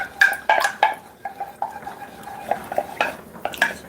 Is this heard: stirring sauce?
yes